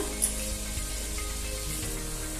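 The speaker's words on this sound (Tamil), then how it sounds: "சேர்த்துட்டு நல்லா வதக்கி விட்டுக்கோங்க." Mint and coriander leaves sauté in a hot pan for veg pulao, a soft steady sizzle with faint stirring scrapes, close and continuous without speech.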